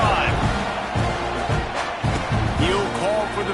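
A College Football 26 stadium crowd roars in a continuous, dense wash under an announcer's steady play-by-play, with a whistle and thuds of impact breaking through the noise.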